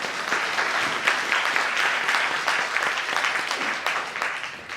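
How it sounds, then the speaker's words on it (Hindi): Audience applause for Govind bhai at a motivational talk, a dense sustained clapping from a crowd that stays loud and steady throughout, with no voices over it. "गोविंद भाई के लिए एक बार जोरदार तालियां"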